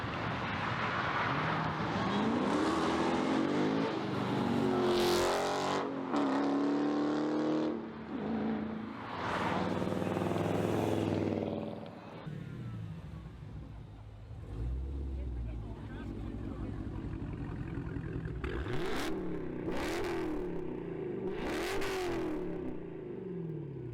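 A loud, unmuffled widebody car engine with resonators removed roars and revs hard, with raspy exhaust bursts and pops, then settles to a rumbling idle before more sharp revs; voices briefly underneath.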